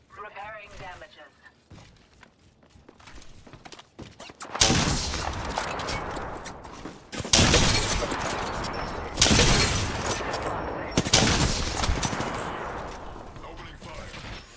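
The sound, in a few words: gunfire in video game Apex Legends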